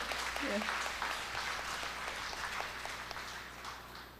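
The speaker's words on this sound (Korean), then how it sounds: "그럼 여러분 크게 박수 한번 쳐주십시오." Dense applause from a crowd at a forum's founding general meeting fills the room steadily, gradually fading a little toward the end.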